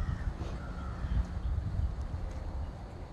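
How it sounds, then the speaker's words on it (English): A crow caws faintly in the distance, a few soft calls over a low outdoor background hum. "I heard a crow just then."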